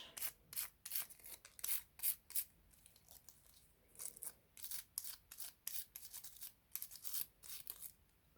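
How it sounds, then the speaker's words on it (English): A brush rubs over a die-cut paper tree in a Stampin' Up! cut and emboss machine, giving close, repeated scratchy strokes in an uneven rhythm with no talking. "I'll just rub that a little bit with the brush"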